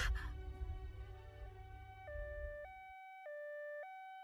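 An ambulance siren wails in a two-tone alternating pattern, clear and fairly close, after a short burst of mixed background noise at the start.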